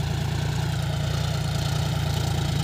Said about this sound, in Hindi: जॉन डियर 5105 40 HP की ताकत देख सकते हो आप।